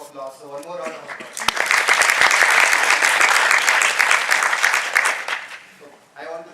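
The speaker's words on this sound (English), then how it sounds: "I think this panel deserves one more round of applause." Sustained applause from a panel discussion audience at an entrepreneurship event, dense clapping swelling quickly and holding for several seconds before fading, with a voice heard briefly at the start and end.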